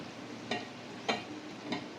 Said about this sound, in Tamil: எண்ணெயிலே நல்லா வதக்கிடுங்க